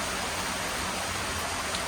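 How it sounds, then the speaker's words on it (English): Heavy rain pours down steadily outdoors near Cairns in tropical Australia, a dense, even hiss with no gaps across the whole stretch and no voices over it. "It's pouring down"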